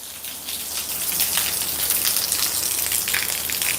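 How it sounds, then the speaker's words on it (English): Heavy rain pours steadily outside by a pool area, a dense, even hiss of drops hitting surfaces that stays loud and close throughout. "The rain is something fierce out there."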